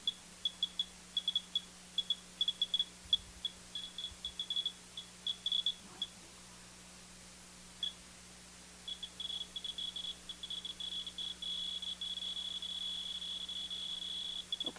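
A Geiger counter held near a beta radiation source gives faint, high, tick-like chirps. They come sparse and irregular at first, then thicken into a denser, faster stream over a low steady hum, with no voices.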